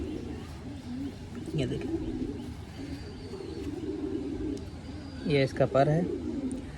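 A young June-hatched pigeon of Salara/Kalpara stock coos softly and steadily in a low murmur, close by, beneath someone talking over it.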